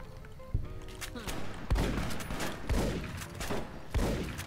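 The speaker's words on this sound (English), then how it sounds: "Man, I'm a bad shot when it comes to shotguns." Gunfire in the video game Fallout: New Vegas, likely shotgun and 12.7mm weapon shots: several sharp booming blasts spaced about a second apart over a steady game background, with a voice speaking briefly.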